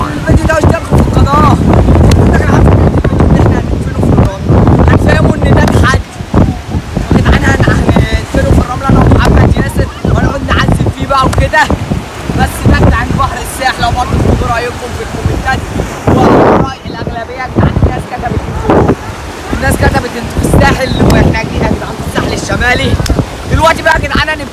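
Wind buffets the microphone at a beach by the sea, with a loud, rough roar of wind and surf running throughout while someone talks over it.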